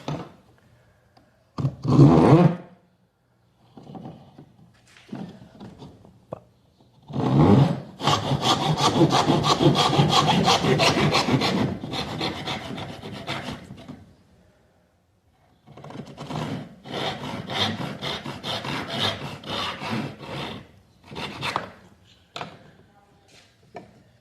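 A rip-cut hand saw, cutting on both push and pull strokes, rasps through wood close by in steady back-and-forth strokes, two long bursts of sawing separated by a short pause.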